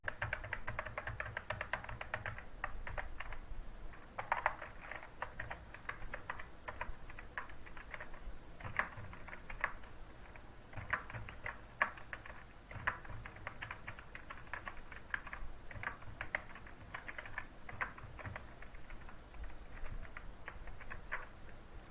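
Someone types on a computer keyboard while building a PDF, producing quiet, irregular clicking keystrokes that run steadily throughout with no speech.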